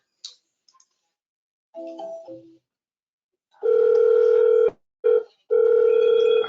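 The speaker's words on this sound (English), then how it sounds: "let me just show you how we could go ahead and actually make a call here" Software places an outgoing call from a customer service platform: a few faint clicks, then loud steady ringback tones in a broken pattern, close and clear with no talking.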